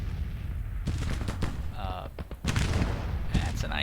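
Musket volleys and scattered gunfire crackle continuously through a Civil War strategy game skirmish, with dense overlapping shots and rumbling booms that swell louder near the end.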